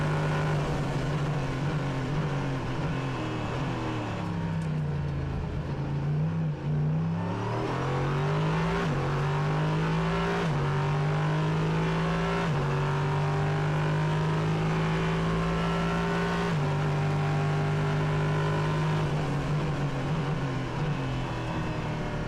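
A naturally aspirated 5.6 litre Nissan V8 in a Prototype Cup Germany race car at Hockenheimring roars from on board, loud and sustained, with rising revs and quick shifts cutting the pitch through a lap.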